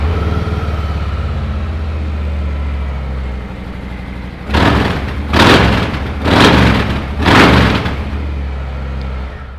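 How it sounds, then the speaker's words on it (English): A 2019 Harley-Davidson Dyna Low Rider with a 1745cc engine idles with a deep, loud rumble before its exhaust barks through four quick, punchy revs in a row, close and powerful. "What a fantastic sounding exhaust. That was just a few revs."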